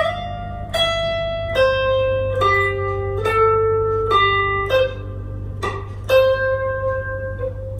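Slow electric guitar lead of the first solo, a string of about eleven single picked notes and a bend, each ringing over a steady low amp hum, no voices.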